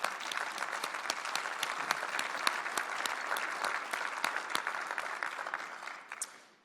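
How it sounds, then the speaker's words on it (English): Warm, dense applause from a large audience at a tribute event, steady sharp clapping that holds for several seconds before tapering off at the end. "you should all give yourself a round of applause for what was accomplished"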